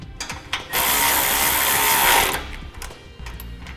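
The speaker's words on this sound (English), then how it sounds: "now we'll loosen our strap up and remove it" Ratchet strap being loosened during a trailer hitch installation on a 2014 Kia Optima: a close, loud burst of rapid clicking and zipping lasting about a second and a half, with faint handling noises before and after.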